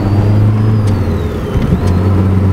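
A Mitsubishi Lancer engine revs up close and loud, its steady drone dipping and climbing again, with a thin whining whir sliding across the top and a couple of brief sharp bursts partway through.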